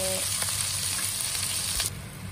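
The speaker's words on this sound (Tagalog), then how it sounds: "prito lang natin saglit yung hipon bago natin ilagay yung iba pang seafood" Shrimp sizzles and fries in a pan for buttered garlic seafood, a steady close crackling hiss with faint stirring clicks, and no talking over it.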